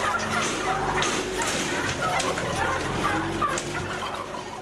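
A crowd of turkeys on a farm's rearing area gobbling continuously, many overlapping calls forming a busy, fairly loud chorus throughout.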